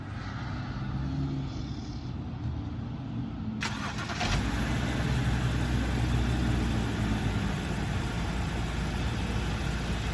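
A BMW E90 car engine, after a spark plug and coil change, cranks and catches partway through, then settles into a steady, loud idle that continues to the end.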